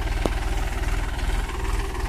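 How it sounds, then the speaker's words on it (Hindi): A 265 tractor engine runs in a sugarcane field, a steady low rumbling idle with close, even throbbing and no talk. "ट्रैक्टर 265 है हमारे किसान भाई का"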